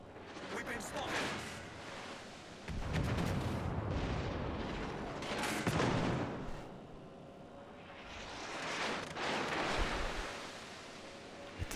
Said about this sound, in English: Get the secondary guns on this side of the ship to open up